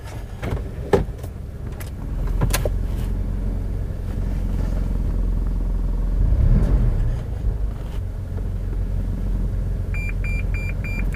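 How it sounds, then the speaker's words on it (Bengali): A car reverses slowly toward a wall with its engine rumbling low and steady, then the rear parking sensor sounds a quick run of evenly spaced electronic beeps near the end. "এখন পার্কিং সেন্সর শব্দ করতেছে"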